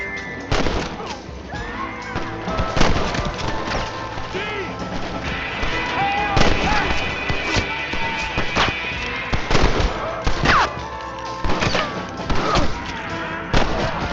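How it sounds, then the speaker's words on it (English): Gunfire in the Western video game Red Dead Redemption, a run of sharp, irregular shots and cracks at close to mid distance, mixed with thuds, crashes and brief character voices. "You're shooting fresh air there, boy."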